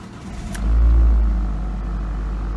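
A used Ford Focus that had been sitting for a while starts up: a short sharp click, then the engine catches with a loud low rumble that swells and settles into a steady running idle.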